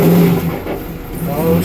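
A Pontiac Trans Am engine revs in first gear, a short mid-pitched rise and surge, with a voice talking over it.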